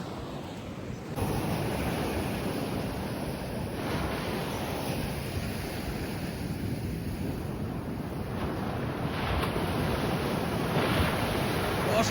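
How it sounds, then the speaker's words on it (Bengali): Sea waves roll onto Bakkhali beach in a steady, close roar of surf that fills the scene from start to finish, with wind buffeting the microphone throughout. "অসাধারণ ঢেউয়ের আওয়াজ"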